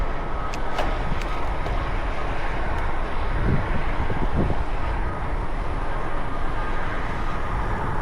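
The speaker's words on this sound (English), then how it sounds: "Here's our headwind." A strong headwind roars across the microphone during a bike ride on a wide road with a shoulder, making a loud, continuous buffeting rush with no talk.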